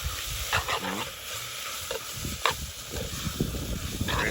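A small snack fries in hot oil over an outdoor cooking fire in Ghana, a steady crackling sizzle with intermittent stirring and scraping clinks, moderately close and continuous throughout.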